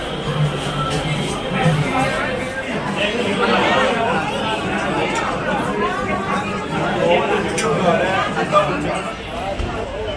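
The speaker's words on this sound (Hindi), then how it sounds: "गाइस आप देख सकते हैं यहाँ पे कितनी भीड़ हो रही है।" A dense crowd of pilgrims chatters steadily in a packed registration queue at Vaishno Devi, a continuous close babble of many overlapping voices with no single speaker standing out.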